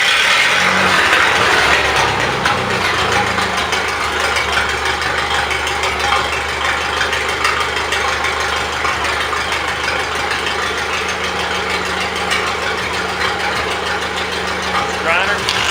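Miller Big 40 welder's engine running steadily at idle, a continuous mid-pitched drone with a faint mechanical rattle, fairly loud and close throughout.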